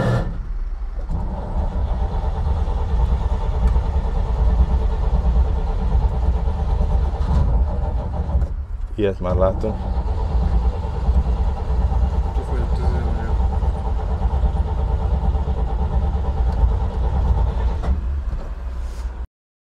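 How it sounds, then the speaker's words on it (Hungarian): A Chevrolet 3100 pickup's OHV engine cranks, then starts and runs with a loud, steady rumble close by, with a brief rattling burst partway through and someone speaking Hungarian over it. "és most megint indítózunk."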